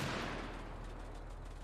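Distant gunfire in Arma Reforger, a WWII-era player-versus-environment battle around a barn, rolling as a low continuous rumble of far-off shots for the whole stretch without any voices.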